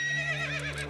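A horse lets out one short, shrill whinny close by, loud and alone with no talking.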